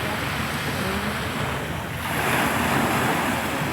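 Rough ocean waves roar steadily onto a beach, loud and continuous, with gusty wind buffeting the microphone and no talking.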